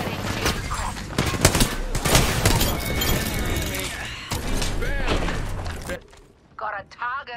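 Rapid gunfire bursts from an online shooter video game fill the mix, with crackling volleys, sharp shots and debris sounds layered under excited voices of players talking.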